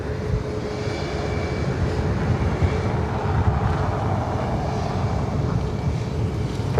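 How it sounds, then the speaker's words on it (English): A Boeing 777 arriving at Los Angeles International sends a steady, loud, low engine rumble and roar that holds evenly throughout, with no voices. "We got the 777 arriving."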